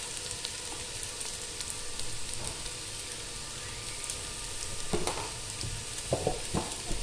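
Onions frying in hot oil until they turn brown, a dense, continuous sizzle up close with a few louder spatters and stirring scrapes near the end, no talking.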